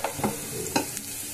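Pea lentil fritters frying in hot oil, a soft continuous sizzle with a few brief stirring clatters, close and fairly quiet, no voices.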